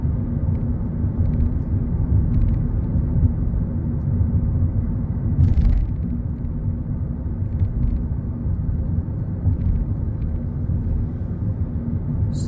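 Inside a car driving along a test route in Peterborough, a steady low engine and road rumble drones throughout, loud and close, with a brief higher rush around the middle and no talking.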